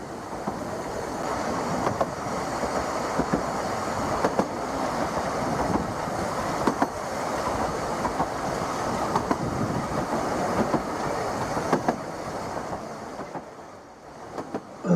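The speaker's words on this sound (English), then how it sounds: "And the train continues to wind its way along the mountainside, dropping the 700 feet down to Aberystwyth" A Vale of Rheidol Railway train winds along a mountainside toward Aberystwyth, its rumble and rhythmic clickety-clack of wheels on rails continuous and close, with no talking.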